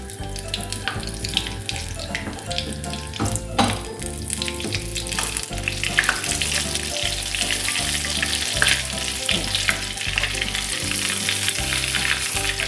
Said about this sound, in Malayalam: അപ്പോൾ പൊരിച്ചെടുക്കാൻ വേണ്ടി ഞാനൊരു പാത്രത്തിൽ കുറച്ച് വെളിച്ചെണ്ണ ഒഴിച്ചു കൊടുത്തിട്ടുണ്ട്.